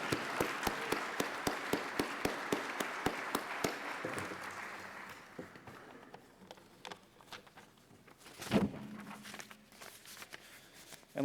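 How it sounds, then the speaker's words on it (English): Audience applause for newly honored Associate Fellows at the 2017 AIAA SciTech Forum, a quick run of distinct claps for about four seconds, then thinning into scattered faint claps, with one louder knock near the end. "Let's give our new Associate Fellows a round of applause to acknowledge their accomplishments."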